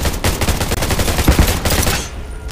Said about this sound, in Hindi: अरे यार ये सब कहाँ कहाँ भी फायर कर दे रहे हैं।